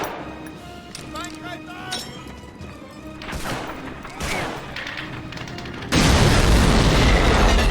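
Fuel drums blow up in a Medal of Honor-style war shooter, a run of game booms and bursts with clinking debris, ending in a loud, sustained roaring blast over the last two seconds.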